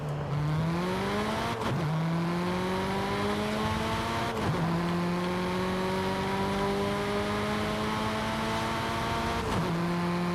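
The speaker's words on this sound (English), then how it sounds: "That 5-cylinder sounds so good. Sounds like a baby V10." A five-cylinder car engine in Forza Horizon 5 revs hard, rising in pitch through each gear, with three quick upshifts cutting the tone before it climbs again, loud and steady throughout.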